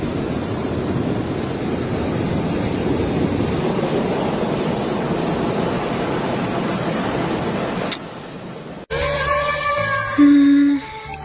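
Steady wash of ocean surf rolling onto a seashore, loud and continuous for about eight seconds, then cutting abruptly to quieter, unrelated tonal sounds.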